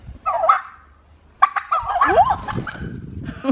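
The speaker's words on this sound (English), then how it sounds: "He's trying to gobble." A turkey gives short, strained gobbles, close by and fairly loud, with a brief pause between bursts and nobody talking.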